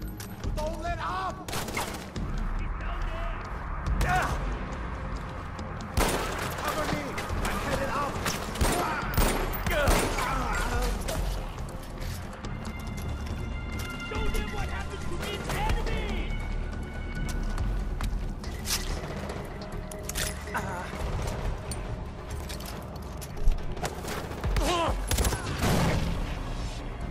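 Rapid gunfire in the Far Cry 4 video game, repeated sharp shots and bursts cracking throughout in irregular clusters against a busy game soundtrack, with no talk over it.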